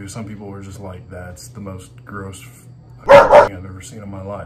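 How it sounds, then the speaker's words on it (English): A dog gives a couple of sharp, loud barks in quick succession near the end, cutting across a person talking indoors. "I'm not sorry about the dog bark."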